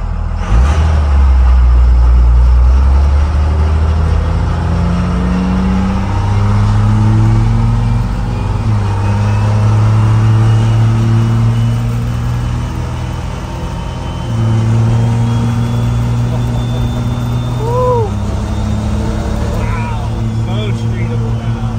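A 1978 Chevy Squarebody truck repowered with a 6.7 Cummins diesel on its first drive, a steady loud engine drone with shifting low tones as it accelerates and changes gear, continuous throughout.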